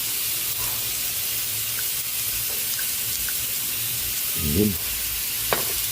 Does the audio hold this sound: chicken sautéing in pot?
yes